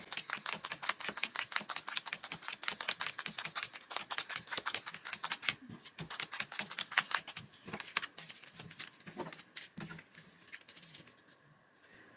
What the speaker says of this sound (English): Then you shuffle the cards